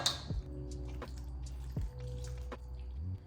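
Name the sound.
scooping cheesy chicken broccoli mixture into baking dish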